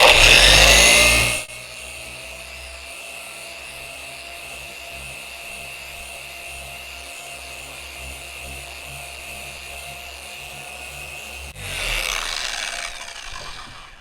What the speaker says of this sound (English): let's just simply polish the trunk and get it all prepped